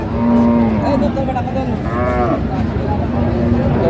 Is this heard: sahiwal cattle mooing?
yes